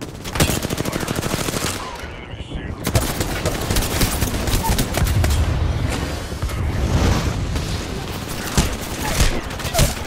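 Gunfire in the Apex Legends video game, rapid automatic bursts and single shots crackling almost without pause, loud and close, with occasional deeper booms and players talking over the shooting.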